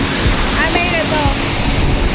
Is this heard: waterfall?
yes